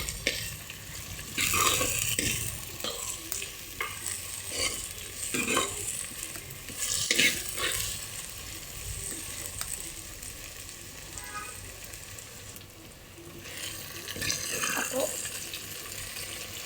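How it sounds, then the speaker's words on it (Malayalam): Chopped tomatoes sautéing in a pan for a sardine curry, with a steady sizzle broken by repeated scraping stirs of a spoon, fairly close and loud, and no talk. "തക്കാളി കൂടെ ഒന്ന് വഴണ്ടി വരട്ടെ."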